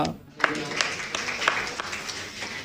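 A church congregation claps during a Tamil Sunday service, with scattered hand claps rising over a preacher's voice and a murmuring crowd.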